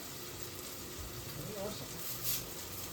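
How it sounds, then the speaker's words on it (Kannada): Ingredients frying in a pan for upama and bisibelebath: a steady soft sizzle with faint stirring scrapes, low and continuous throughout. "ಸೊ ಇಷ್ಟೆಲ್ಲ ಇಂಗ್ರೀಡಿಯೆಂಟ್ಸ್ ಹಾಕ್ಕೊಂಡು ಈ ಥರ ಹಿಂಗೆ ಫ್ರೈ ಮಾಡಬೇಕು"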